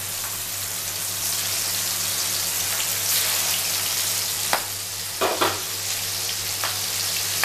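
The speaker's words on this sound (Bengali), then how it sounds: "সেই টিকলিগুলোকে আমি এবার ভেজে নেব।" Rohu fish tikli kebabs frying in hot oil, a steady dense sizzle throughout with a few sharper crackles and spatters near the end, close and continuous with no talking.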